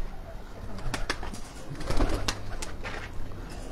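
Several pigeons coo in soft, repeated throaty bursts close by, with faint rustling and flapping in between.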